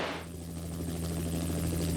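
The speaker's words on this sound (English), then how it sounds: "you needed something like Mi-17 V5, which we are flying, is a top class aircraft" Mi-17 V5 military helicopter in flight, heard from inside as a constant low rotor drone and engine hum, steady and fairly loud with a brief hiss at the start and no speech.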